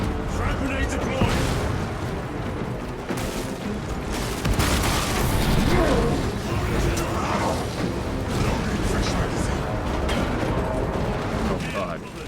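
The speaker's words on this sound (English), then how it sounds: "Trap grenade deployed!" Trap grenade blast in Space Marine 2 gameplay, a dense rumble of booms and gunfire rolling through the whole stretch, loud and continuous, with a voice talking over parts of it.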